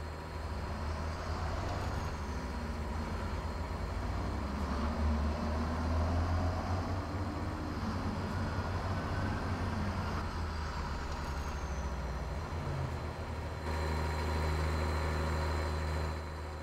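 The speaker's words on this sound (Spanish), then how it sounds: "nos toca arrollarnos con el ruido del motor, el sonido del motor, muchachos" A Kenworth T680 truck hauling 34 tonnes of coffee in American Truck Simulator runs with a steady, deep diesel drone, loud and continuous, its pitch shifting slightly as it pulls, with a brief break near the end.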